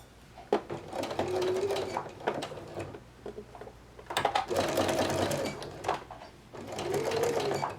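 A sewing machine stitches a plush tail onto the body along the seam, running in three bursts of steady mechanical whirring and needle chatter separated by short pauses, close and moderately quiet.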